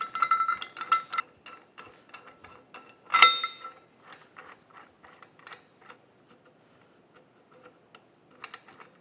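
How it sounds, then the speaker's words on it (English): A screw being driven into the wedge on a steam locomotive connecting rod gives a run of close, dry ratcheting clicks and ticks, sharpest around three seconds and thinning to sparse taps. "So we'll go ahead and get it screwed in there, and we'll adjust it in place."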